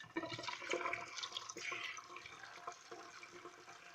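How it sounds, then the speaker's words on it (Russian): Plums are rinsed under a running kitchen tap, a steady quiet splash and gurgle of water with small knocks and handling noises, fairly faint and without talk. "Для начала сливы нам необходимо помыть под проточной водой."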